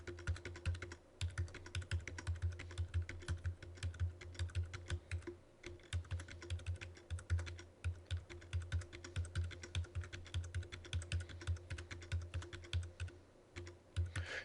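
Computer keyboard typing on the number keypad with repeated Tab key presses, moving between table cells in Microsoft Word; a steady, close, rapid run of clicky keystrokes with brief pauses and no talk.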